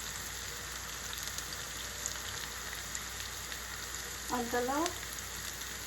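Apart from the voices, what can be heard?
bitter gourd frying in a pan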